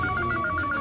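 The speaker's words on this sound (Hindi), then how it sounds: "माँ फोन उठा" A telephone bell rings in a domestic indoor setting, repeating short electronic trill bursts in a steady rhythm, fairly loud and close, with no voices over it.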